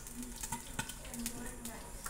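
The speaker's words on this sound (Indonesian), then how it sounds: "banyak lagi mau digoreng" Food frying in a pan for a home-cooked meal, a steady close sizzle with light stirring and utensil scrapes throughout.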